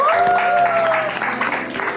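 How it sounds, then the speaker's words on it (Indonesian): Audience applause for a performer and an ambulance community group at a comedy show, a short burst of clapping with crowd noise and a voice over it. "tepuk tangan buat Kang Sule dan komunitas ambulan"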